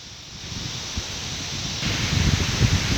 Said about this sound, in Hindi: खौफनाक आ रहा है तूफ़ान, बहुत ही खौफनाक तूफ़ान।